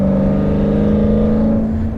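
BMW E92 M3 with an Akrapovic Evolution exhaust, a steady loud engine drone with a strong low-pitched exhaust tone held at constant revs from inside or near the car, with no talking.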